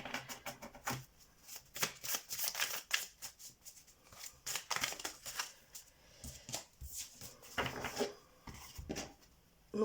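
Tarot deck shuffled and cut by hand close to the microphone, a run of quick riffling card flutters and soft slaps in irregular bursts with brief pauses, fairly quiet overall.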